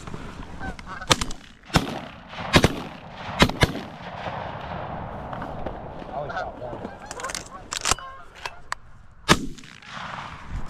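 Sharp shotgun blasts crack out several times, some in quick pairs, over a cattle pasture during a goose hunt, with geese honking throughout and voices talking between the shots.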